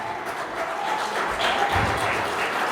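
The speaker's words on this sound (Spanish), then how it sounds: "Denle un aplauso fuerte a Jesús." Steady applause from a church congregation, a dense continuous patter of clapping that holds at an even level throughout.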